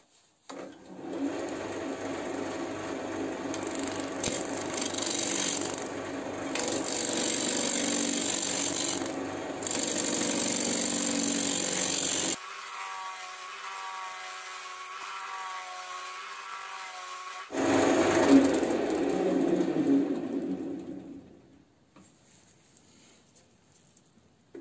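A woodturning lathe trims the edges of a firewood bowl blank, giving a steady buzzing, scraping whir that runs for several seconds, pauses briefly and resumes, with no talking.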